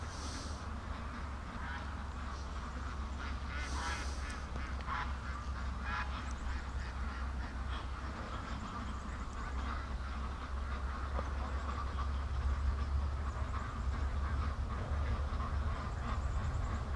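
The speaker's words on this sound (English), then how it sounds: "I hear a whole bunch of ducks coming behind me, though" Flock of ducks quacking outdoors at a free-range farm, scattered calls at middle distance over a steady low rumble of background noise, rising slightly toward the end.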